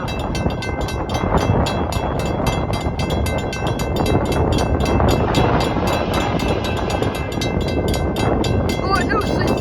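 A train passes on the railway at Munson Highway with a fast, rhythmic clickety-clack of wheels over rail joints and a continuous rolling rumble, fairly loud, with voices faintly underneath.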